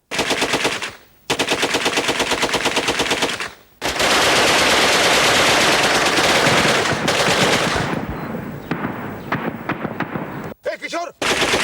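Soldiers open fire on command in a 1989 Indian television drama, loud sustained bursts of rapid automatic gunfire broken by brief gaps, thinning into scattered shots near the end.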